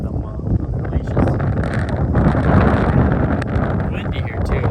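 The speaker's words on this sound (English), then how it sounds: "I bet you guys are already hearing the wind just cutting on us" Steady wind buffeting the microphone at a speedway, a loud low rumble that runs through the whole stretch, with faint movement sounds mixed in.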